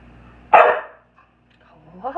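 A dog in a home kitchen, during the baking of coffee cake muffins, lets out one loud, close bark, followed by a pause and then a couple of soft whimpering yips.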